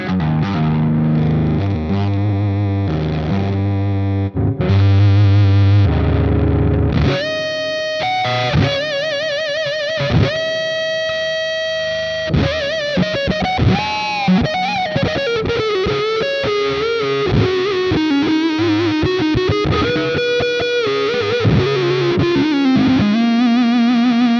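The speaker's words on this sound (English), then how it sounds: "Another feature we have on the new updated version of the Plini archetype is we have a fuzz feature" An electric guitar runs through the fuzz setting of the Neural DSP Plini Archetype plugin: thick, saturated chords at first, then sustained single-note melodic lines, loud and continuous with no talking.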